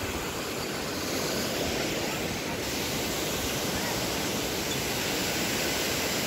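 A broad, steady rush of a flowing river fills the clip, constant and fairly loud, with no voices.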